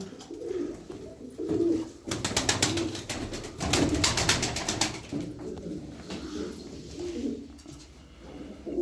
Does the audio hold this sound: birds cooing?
yes